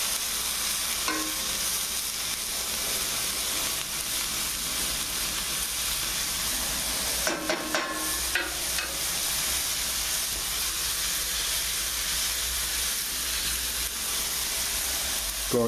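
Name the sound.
food sizzling in a pan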